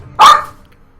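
A single sharp bark from a dog indoors, close and loud, lasting a fraction of a second before quiet returns.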